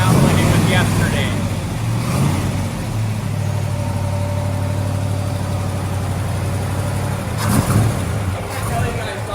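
Engine of a 1968 Chevrolet Chevelle running nearby, a steady low rumbling idle with a slight rev near the end, while people talk over it.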